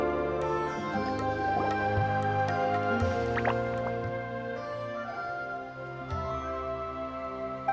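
Water droplets drip and plink repeatedly in a Genshin Impact game scene, bright watery drops landing over a steady ambient musical bed, close and fairly loud with no talk.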